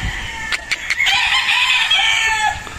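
A Kelso gamecock gives a few quick clucks, then lets out one loud, close crow that is drawn out over a couple of seconds.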